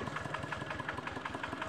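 The engine of a walking tractor idles steadily nearby, chugging with a fast, even pulse throughout and no voices.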